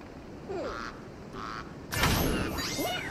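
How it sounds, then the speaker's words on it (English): A cartoonish bird quacks inside Puzzle Bobble VR, in short honking calls over steady game music, followed by a bright burst of bubble-popping effects. "A bird!"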